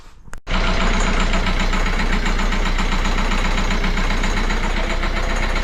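A Citroën C4 engine, troubled by a fuel injector fault, catches after a brief crank and then runs steadily, with a loud, close, even idle and a rhythmic mechanical knock through the rest, with no talk.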